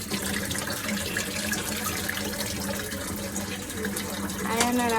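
Vegetables rinsed under running water, a continuous close splashing stream that fills the whole moment, with a voice talking over it.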